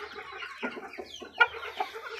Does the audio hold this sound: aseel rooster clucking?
yes